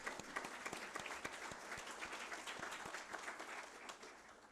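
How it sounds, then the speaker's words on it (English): Conference audience at an inaugural development session applauding, dense sustained clapping with sharp individual claps standing out, fairly close and steady before easing slightly at the end. "Please stand up so that you can be applauded for the excellent leadership."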